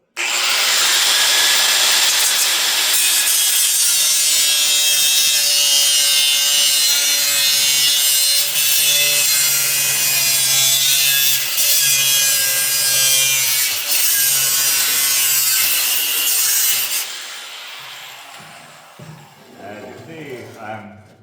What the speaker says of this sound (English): I'm grinding a line and then I'm cutting through, and then I'm grinding a line and then I'm cutting through